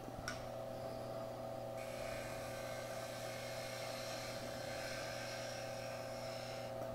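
A wood lathe spins an inside-out Christmas ornament while beads are cut with gouges, giving a steady, continuous motor drone with a faint high whine and tool hiss that holds level throughout, with no talking.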